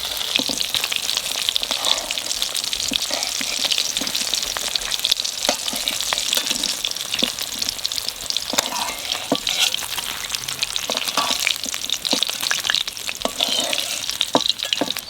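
Hilsa fish frying in plenty of hot oil, a dense, steady, close-up crackling sizzle that runs continuously with occasional louder spatters and no talk over it.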